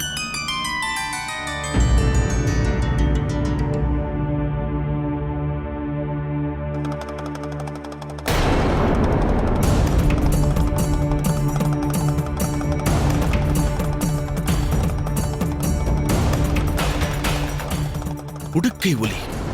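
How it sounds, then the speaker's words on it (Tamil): A damaru hand drum rattles in rapid bursts over a loud, droning musical backdrop of sustained tones. "இது மகாதேவரது உடுக்கை ஒலி அல்லவா?"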